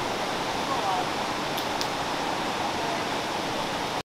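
Waterfall on the Pacific coast, its water split into two streams by a massive boulder at the center and falling into a small pool below; a steady, close, broadband rush continues unbroken for about four seconds.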